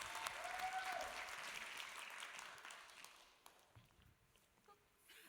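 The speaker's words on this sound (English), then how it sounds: "Can we have one more round of applause for that, please?" An audience at a cosplay championship at a gaming expo breaks into loud, dense clapping that gradually thins and fades out, with a few scattered claps and footsteps at the end.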